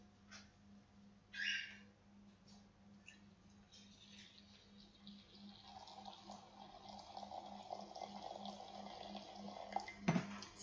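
Boiling water from a freshly boiled kettle pours into a cup in a home kitchen, a soft steady trickle building gradually over several seconds, quiet and close, with a faint clink near the start and a knock at the end.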